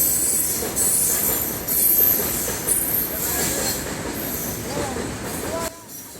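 A long train rolls past near Farakka Barrage in a continuous loud rumble. Wheel squeal and clickety-clack run throughout, then fade near the end.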